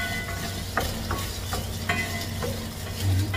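Onion pieces go into a hot pan for a Filipino squash-in-coconut-milk dish, giving a steady sizzle with a few sharp scraping stirs and clinks spread across the moment, close and fairly loud, with no talking.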